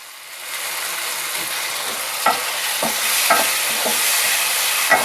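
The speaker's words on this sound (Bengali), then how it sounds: "ভালো করে আমরা নাড়াচাড়া করলাম" Tomatoes and poppy seed paste stirred in a frying pan, a steady close sizzle with several sharp spoon scrapes against the pan at irregular intervals, no voices.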